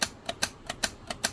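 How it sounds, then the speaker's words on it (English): Scan feature on a Robyn GT-7C CB radio under repair, stepping through channels with sharp, evenly spaced clicks about every 0.14 seconds, a steady typewriter-like rattle heard up close with no talking. "You actually have a scan feature. So kind of sounds like a typewriter"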